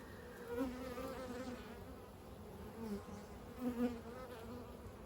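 A close, continuous buzz of many Carniolan (Carpathian) honeybees around a hive, droning with small swells in loudness, with no voices.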